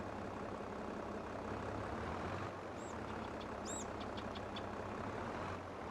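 Tractor engine in the Farming Simulator 22 video game, a low steady rumble idling throughout, quiet and continuous, with a few brief high chirps and beeps midway.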